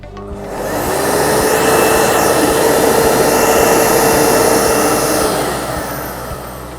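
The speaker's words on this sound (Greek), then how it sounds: "είδατε ότι η σκούπα μας εκκίνησε με το που ξεκινήσαμε το μηχάνημα" A Bormann Pro BVC6000 wet-dry vacuum cleaner starts up, holds a loud steady motor whine close by, then winds down as it shuts off. No one speaks over it.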